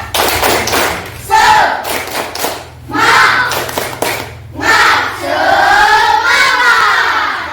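A classroom of children performing a spirit clapping chant, tepuk semangat, with loud rhythmic claps and shouted chanting in repeated bursts, close and energetic.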